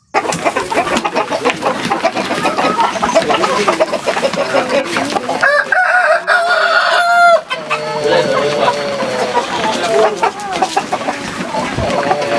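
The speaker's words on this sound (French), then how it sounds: "Comment élever les poulets Goliath et pourquoi élever les poulets Goliath?" Goliath chickens cluck busily together while a rooster crows partway through, a dense, close farmyard chorus that stays loud throughout.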